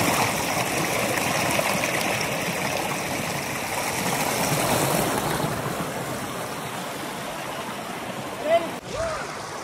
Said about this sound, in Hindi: ये लोग पहाड़ों से जो पानी आ रहा है एकदम ठंडा ठंडा, उससे एकदम नहा रहे